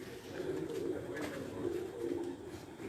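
Champion racing pigeons coo in low, rolling, continuous calls close by, several birds overlapping into a steady murmur with no clear pauses.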